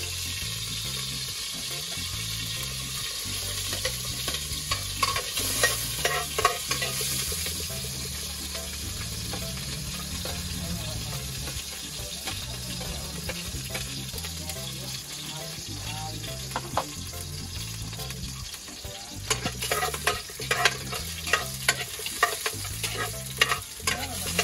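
Garlic sizzles and fries in oil in a very hot pot while being stirred steadily, a continuous loud crackle with repeated scraping strokes and no talk.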